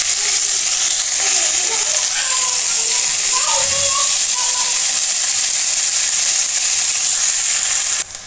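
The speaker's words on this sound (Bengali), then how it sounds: "এবার আমি এখানে অ্যাড করব পেঁয়াজ কুচি আর রসুন কুচি, দিয়ে আমি সুন্দর করে লাল লাল করে একটু ভেজে নেব" Chopped onion and garlic frying in a pan give a loud, dense, steady sizzle and hiss that carries on unbroken until it cuts off just before the end.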